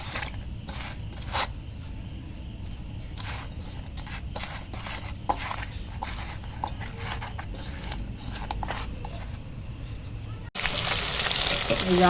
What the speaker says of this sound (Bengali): এখন কাতলা মাছগুলো ভেজে নিচ্ছি